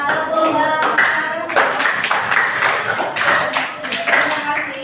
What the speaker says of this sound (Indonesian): beri tepuk tangan untuk kelompok 4. Tepuk tangan.